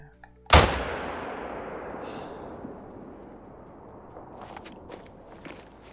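A single rifle shot in the hunting video game theHunter: Call of the Wild, a sharp loud crack followed by a long fading echo. Faint footsteps and movement come afterward.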